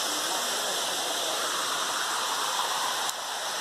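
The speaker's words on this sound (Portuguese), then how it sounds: "Nós estamos na Cachoeira Bela Vista" The Cachoeira Bela Vista waterfall roars close by as a loud, steady rush of falling water that continues unbroken throughout.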